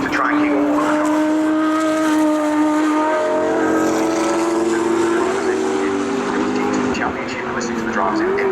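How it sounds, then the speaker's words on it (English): A yellow McLaren P1 race car goes past on the Brands Hatch circuit with a loud, rising engine note. A commentator keeps talking over the sound. "The yellow McLaren P1 that's just actually underneath you, going through the gate"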